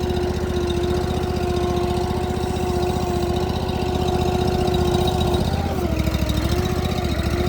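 The engine of a Ditch Witch 36-inch trencher runs steadily nearby with an even, throbbing idle and a constant hum, easing down slightly toward the end, with no talk.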